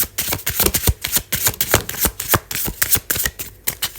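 Rapid crisp riffling and snapping of tarot cards being shuffled, a busy irregular patter of sharp clicks and flutters, close and fairly loud.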